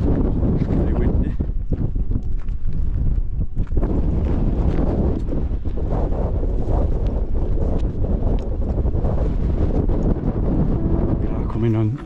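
Strong, constant wind buffets the microphone on the Ben Cruachan ridge in the Scottish Highlands, with snow still lying nearby. A loud, unbroken roar fills the whole stretch with gusty rumbling.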